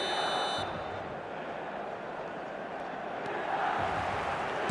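Stadium crowd noise from an eFootball match plays as a steady, loud roar of massed fans, with a brief buzzer-like tone at the start and the cheering swelling again near the end.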